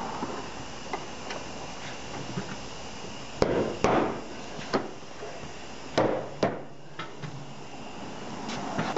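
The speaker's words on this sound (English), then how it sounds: "I'm going to try to work it with a flat screwdriver very lightly so we don't damage anything" A flat screwdriver pries a Honda Pilot tail lamp out of its housing, making a series of sharp close plastic clicks and knocks over a low steady background, with no speech.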